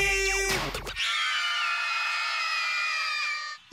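A crowd, likely a studio audience at a children's hip hop dance show, screams and cheers in one sustained, loud burst lasting about three seconds after a brief musical hit.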